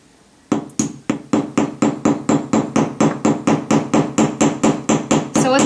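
A hammer pounds a metal rivet through a washer for layered jewelry riveting, giving about twenty sharp, evenly spaced taps close up, each with a short ring and no talking.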